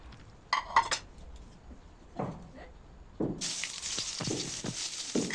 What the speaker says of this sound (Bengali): মাঝারি সাইজের দুটো পেঁয়াজ কুচি করে কেটে নিয়ে সেই পেঁয়াজ দুটো আমি লাল লাল করে ভেজে নিয়েছি